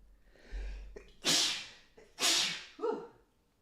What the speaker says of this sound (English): Sorry, I got hardcore sneeze there.